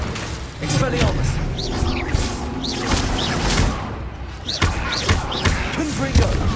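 Expelliarmus spell combat in the Hogwarts Legacy video game, loud repeated magical bursts, thumps and slams layered with game effects and voices throughout.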